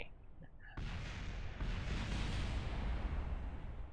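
A rocket crashes and explodes in Kerbal Space Program, erupting suddenly into a loud, dense roaring blast that swells again and keeps rumbling without fading.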